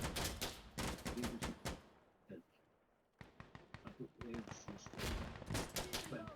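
Gunfire in the tactical shooter game Insurgency Sandstorm, rapid bursts of sharp shots cracking in clusters at the start and again after a short lull, loud and close.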